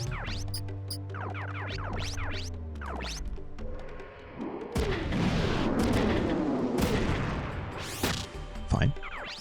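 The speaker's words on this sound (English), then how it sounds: "Let's shoot the other one." Loud, heavy booming fire from a mech in Front Mission 3 rolls into a sustained rumbling barrage after a stretch of game tones and beeps, with a few sharp bangs at the end.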